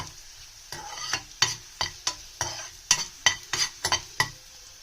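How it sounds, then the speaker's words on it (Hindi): Chopped green chillies fry in oil over a slow flame while a spoon stirs them, giving a steady soft sizzle broken by about a dozen sharp scraping clinks against the pan at an irregular rhythm, close and fairly loud. "उसके बाद हम स्लोली इसमें हरी मिर्च फ्राई करेंगे।"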